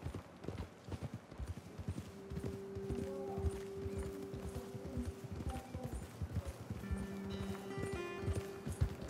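Horse hooves clip-clop in a steady, fast rhythm throughout in the Red Dead Redemption video game, close and prominent with a faint tonal drone and brief voice-like sounds over the top.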